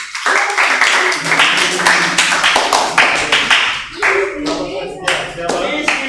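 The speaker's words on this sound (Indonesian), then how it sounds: "Terima kasih tepuk tangan." An audience applauds after a presentation, a dense, steady wash of many hands clapping that fills the whole stretch, with a few voices mixed in beneath.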